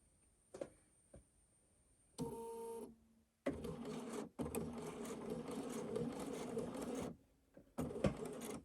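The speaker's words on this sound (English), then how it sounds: "So then foot down and then start sewing." A Bernina 770 Quilters Edition Plus sewing machine stitches in short bursts and then a longer steady run, its quiet mechanical whir starting and stopping with clicks between runs, close and alone.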